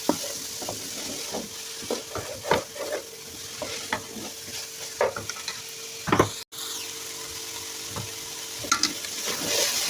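Vegetables for chicken macaroni stir-fried over high heat, a steady sizzle broken by repeated scraping and tossing strokes of a spatula in the pan, close and fairly loud with no talking.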